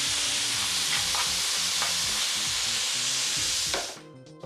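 Fresh ginger and onion fry in a pan with a loud, continuous close sizzle and occasional stirring scrapes, tapering off at the very end.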